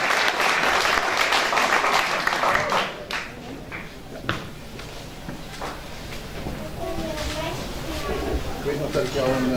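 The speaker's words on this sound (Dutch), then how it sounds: "Dit is een applaus, Jan Basten, erelid van de kerkelijke fanfar" Applause for an honorary member of the Saint Agatha church brass band at its centenary jubilee, a dense burst of clapping that thins after a few seconds and continues more loosely under talking.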